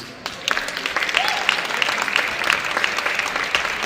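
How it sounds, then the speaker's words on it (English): Audience applause at a weightlifting competition, a dense steady patter of many hands clapping in a hall, fairly loud and continuous for a few seconds. "Your applause, thank you very much."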